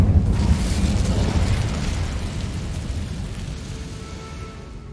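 Fiery blast from the Incendio spell in Hogwarts Legacy, a loud rumbling burst that flares up at the start and then roars on steadily as a dense, crackling wash of flame, with no voices.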